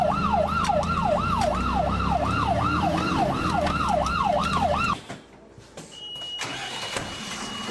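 A loud wailing fire brigade emergency siren sweeps up and down in rapid regular cycles, then cuts off abruptly, leaving quieter background noise and a faint high tone.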